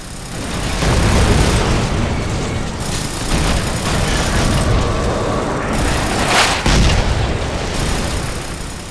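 Explosions blasting apart objects in the Frostbite 2 video game Army of Two: The Devil's Cartel, a loud continuous barrage of booms and bursts over nearly nine seconds, with a sharp blast near the end.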